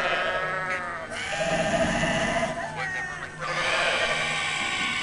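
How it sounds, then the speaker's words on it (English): Several goats bleat loudly and insistently close by, overlapping cries rising and falling across the whole stretch with a brief dip near the middle, and a person's voice mixes in among them. "just goats screaming at me"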